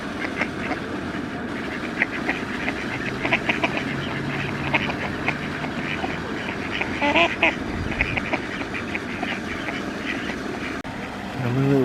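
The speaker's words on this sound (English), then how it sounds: "I've got a lone little baby duck" A lone baby duck swims on a park pond inlet in Queens Park and gives a few thin, high peeps near the middle, over a continuous rumbling outdoor background.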